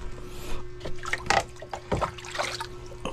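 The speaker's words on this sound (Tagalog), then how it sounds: "Ay, tubig." Water trickles and splashes into a bucket at a drying rural water spot, a close, uneven dribble with small splatters over a steady low hum.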